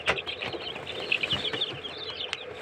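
Half-grown chicks huddled in a corner of a coop give high, thin cheeping calls, scattered and close, over a soft rustling background.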